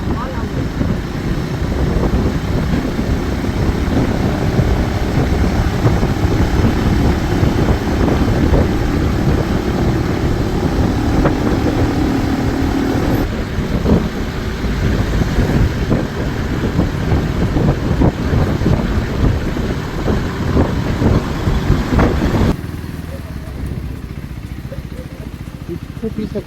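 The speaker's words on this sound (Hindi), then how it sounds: "आप ही सुनिएगा ये बाइक का रॉ साउंड।" Motorcycle on a highway ride toward Matheran, its engine droning steadily with wind rush and road noise throughout, easing to a lower hum near the end, with some talk over it.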